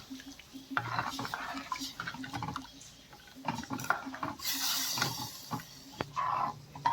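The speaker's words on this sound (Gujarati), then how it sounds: "આપણે કઢીને સતત હલાવતા રહીશું એટલે છાશ ફાટી ના જાય" Fasting-style kadhi of buttermilk thickened with rajgira flour and curry leaves is stirred steadily in a pot, with a spoon scraping and clinking against the metal in a continuous close rhythm alongside a faint simmer.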